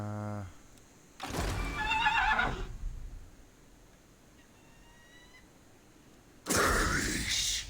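Horse neighs twice in Total War Warhammer, a loud whinny with a trailing tail early on and another loud burst near the end, separated by a quieter stretch with a faint high whistle-like tone.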